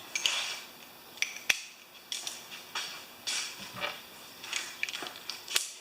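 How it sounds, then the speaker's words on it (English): Ratcheting clicks and metallic taps from a torque wrench tightening bolts on an old mower engine, up to 200 inch-pounds in a crisscross pattern, heard as short irregular bursts with brief gaps. "So let's take it up to 200 inch-pounds because it's an old motor."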